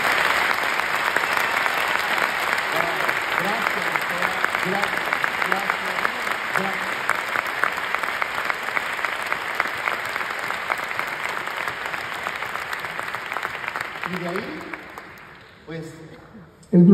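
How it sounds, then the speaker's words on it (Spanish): An audience at a talk about glutathione and Immunocal breaks into a strong, sustained round of applause, dense clapping that carries on loudly for most of the stretch before fading out near the end, with brief talk emerging as it dies away. "Le demos un fuerte aplauso"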